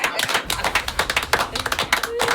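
A small group clapping, quick uneven claps close by with distinct sharp hits, running for a couple of seconds without voices on top.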